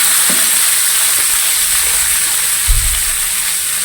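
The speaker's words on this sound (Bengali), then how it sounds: "এবার আলুটা ভেজে নেবো।" Potatoes frying in hot oil with onions for a crab, potato and okra dish, a loud, steady hiss of sizzling with a soft stirring thump near the end.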